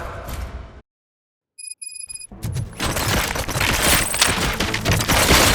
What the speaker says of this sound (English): Gunshots? What's going on?